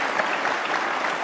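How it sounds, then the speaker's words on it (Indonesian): An audience claps for Kiai Haji Mustafa Bisri, a dense, steady burst of applause from many hands that fills the whole moment, with no speech. "Kasih tepuk tangan dong untuk Kiai Haji Mustafa Bisri."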